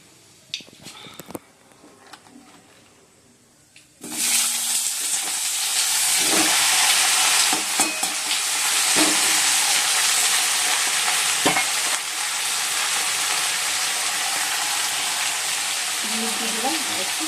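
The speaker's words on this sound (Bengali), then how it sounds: "কড়াইতে তেল দিয়ে দিচ্ছি, কালো জিরে ফোড়ন দিয়ে দিচ্ছি। এবার শাকগুলো দিয়ে দেবো।" Leafy greens hit hot oil with nigella seeds in a wok, bursting into a loud, sustained sizzle and hiss after a few quiet clinks, with occasional stirring scrapes.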